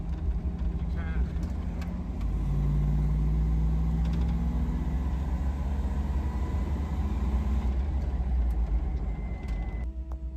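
A Toyota Land Cruiser engine runs steadily with a low, even rumble that holds throughout, heard from nearby with light background noise and no talk over it.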